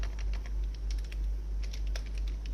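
A name typed on a computer keyboard while entering input for a C program, with a string of light, quick key clicks in uneven bursts over a steady low hum.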